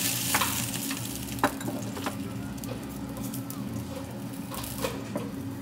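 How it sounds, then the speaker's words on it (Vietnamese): Spoon stirring salt into a pot of water on the stove, with scraping and swishing strokes and occasional clinks against the pot over a bubbling, sizzling background. "Các bạn sẽ khuấy cho cái muối này nó tan ra."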